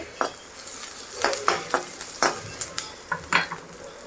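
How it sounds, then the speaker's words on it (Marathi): Finely chopped onion sautéing in a pan, a constant close sizzle overlaid by a quick run of spatula scrapes and taps against the metal, about a dozen strokes in four seconds. "कांदा आपण परतून घेऊया छान लालसर होईपर्यंत"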